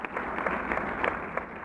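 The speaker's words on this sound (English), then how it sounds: "A muffled applause resonated faintly through the walls." Faint, dull applause from a crowd in the video game Beacon Pines, muffled as if heard through a wall, steady and brief.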